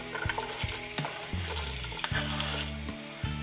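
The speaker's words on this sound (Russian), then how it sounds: "Жарим свеклу до золотистой корочки" Close, steady sizzling of beetroot frying in a pan, with low thumps and scraping as it is stirred.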